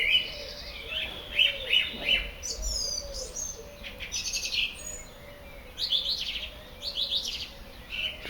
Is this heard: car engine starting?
no